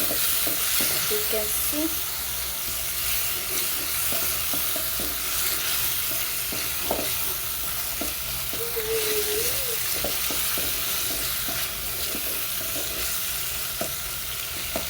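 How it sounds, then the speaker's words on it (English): Onions and tomatoes frying in a pan make a constant loud sizzle with scattered stirring clatter, while a voice speaks briefly over it. "I fry them a little bit"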